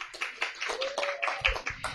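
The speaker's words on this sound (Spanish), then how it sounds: "Un aplauso para Tatiana" Scattered hand claps from a small audience at a talk on Colombian women scientists, welcoming a statistician and data scientist; a few irregular claps close by, thin and brief, with a faint tone running underneath.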